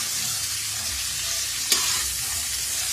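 Eggs fry in a pan as they are stirred, giving a continuous bright sizzle with one short sharp knock midway.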